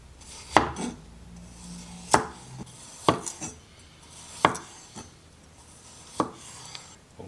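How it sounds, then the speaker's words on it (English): Knife slicing garlic cloves lengthwise on a cutting board: about six sharp, separate chops spaced irregularly across several seconds, close and crisp with quiet pauses between. "3 large cloves of garlic, which I'm gonna slice"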